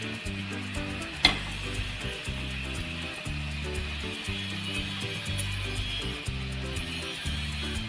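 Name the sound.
stirring banana flower vegetable with fresh grated coconut in pan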